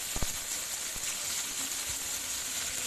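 Onion paste hitting hot oil in a curry pan with a bay leaf and dried red chillies, a steady bright sizzle and frying hiss throughout after a couple of sharp clatters at the start.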